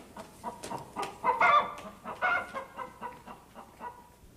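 A hen clucks in a quick series of short, close calls with brief pauses between them, rising to a louder burst in the middle.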